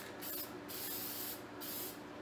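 Aerosol rust treatment hissing steadily onto a 1953 Chevrolet fender panel, laid on thick in long continuous bursts with brief dips between passes, close and fairly loud.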